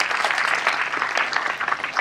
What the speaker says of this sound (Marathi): त्यांच्यासाठी एकदा जोरदार टाळ्या